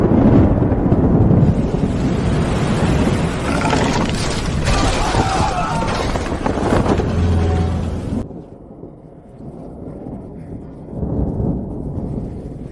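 A storm breaks over the sea with heavy rumbling thunder and wind noise over rushing water, loud for several seconds before abruptly dropping to a quieter rumble, with a voice briefly heard within.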